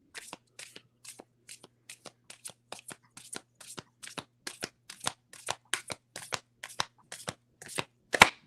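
Oracle cards being shuffled by hand before a card is pulled: a rapid series of crisp, close riffling snaps in a steady rhythm, growing slightly louder toward the end, with no talking.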